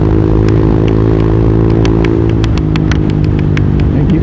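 A motorcycle with a loud aftermarket exhaust revs close by, a harsh continuous roar with sharp crackling bursts building toward the end.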